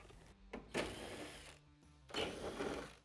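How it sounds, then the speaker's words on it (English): A power driver with a T40 Torx bit whirs in short bursts as it backs out Torx screws from the rear of a Polaris RZR Pro XP cargo bed, close and moderately loud. "we need to remove four Torx screws that are in the back of our cargo bed. So we're gonna use a T40 Torx bit for that."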